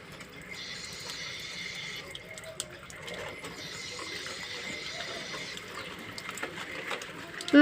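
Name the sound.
water pouring during a bath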